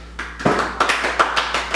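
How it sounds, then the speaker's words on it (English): A few soft, evenly spaced hand claps, light and polite, close by in a quiet room. "Golf clap."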